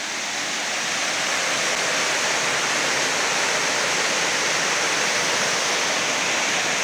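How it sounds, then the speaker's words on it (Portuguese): Underground waterfall inside a tunnel, water pouring in a loud, steady roaring rush with a broad hiss, close and unbroken, swelling slightly at the start and then holding constant, with no voices. "E aqui então a cascata, a água passa pelo subterrâneo"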